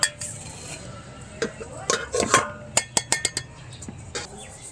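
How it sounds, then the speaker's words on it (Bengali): Drumstick stem powder is sifted through a fine sieve, with sharp metallic taps and clinks on the sieve and bowl, some in quick bursts of four or five, loud and close with no speech. "এবার আমি একটা চালুনির সাহায্যে ছেড়ে নেব"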